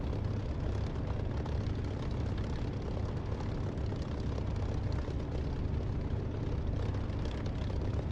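Single-engine P-51 fighter, a TF-51 trainer version with no guns, in a DCS or War Thunder flight simulator: a steady, loud, dense propeller engine drone that holds unbroken and close throughout, with no voices.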